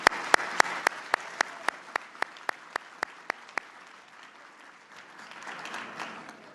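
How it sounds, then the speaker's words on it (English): Audience applause at a U.S. Conference of Mayors winter meeting luncheon, opening with a few loud sharp claps that thin into a scattered diminishing patter, then a softer swell of clapping and murmur toward the end. "Please give Siemens a big round of applause."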